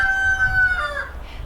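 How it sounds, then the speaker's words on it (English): A rooster crows once, close and loud, its long call held for about a second before trailing off, with no talk over it. "Sorry about the rooster."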